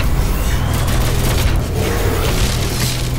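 Grenade blasts in Doom SnapMap roll together into a loud, dense barrage of booms and crackling gunfire-like bursts with no pause.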